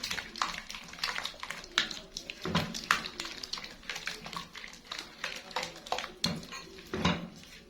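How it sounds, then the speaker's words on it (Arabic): Pasta being stirred with béchamel sauce in a pot, a busy run of clattering utensil knocks and scrapes against the metal in an irregular rhythm, close and fairly loud, with no talking. "الخليط ده كله هقلبه كده كويس معانا"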